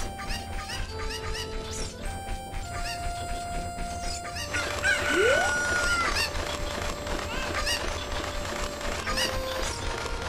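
Chickens cluck in the village of The Legend of Zelda: Ocarina of Time HD, giving short, bright calls over steady looping game music with sustained tones.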